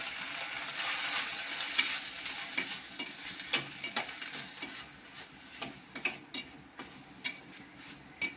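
Dried red chillies and coconut sauté in a pan, a steady high sizzle broken by repeated scraping stirs and small clinks that grow sharper and more frequent toward the end, close by with no talk.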